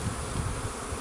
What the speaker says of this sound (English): you should have seen all the bees flying around everywhere